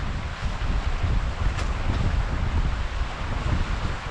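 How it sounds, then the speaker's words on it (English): Strong wind at a sea fishing spot on the South Wales coast, roaring steadily into the microphone as a continuous low rumble and buffeting, with a faint surf-like wash underneath and no voices. "That wind is really picking up."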